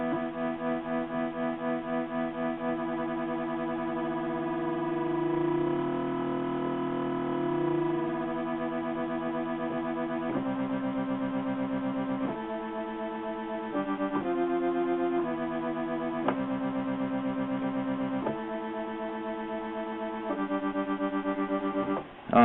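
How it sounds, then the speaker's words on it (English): A DIY synthesizer plays a sustained tone with a smooth, wavering sine-wave LFO modulation, then shifts into a series of stepped chord-like notes, loud and continuous with no talking. "I want the LFO to be a sine wave"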